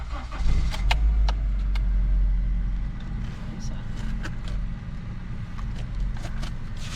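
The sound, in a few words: car engine starting after fuse repair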